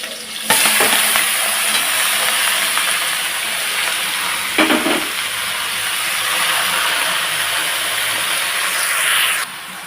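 Chopped bottle gourd hits hot oil in a pan already holding cumin seeds and slit green chillies, setting off a loud, steady sizzle and hiss that carries on for several seconds with brief stirring scrapes.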